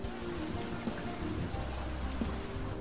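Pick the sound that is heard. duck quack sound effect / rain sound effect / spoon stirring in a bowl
rain sound effect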